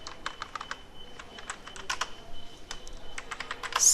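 Rapid clicking of computer keyboard keys as an SQL command is typed, close and fairly quiet, with uneven bursts of keystrokes and no speech.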